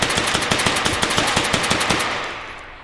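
Armor-piercing rounds fired in the VR shooting game H3VR, a rapid burst of about fifteen sharp gunshots at a steady fast rhythm, loud and close with no talking.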